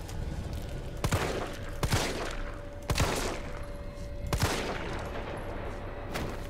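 Gunshots fired at zombies in Resident Evil 3, the Raccoon City demo: five or six sharp, loud reports spaced about a second apart over a steady game background hum, with no talk.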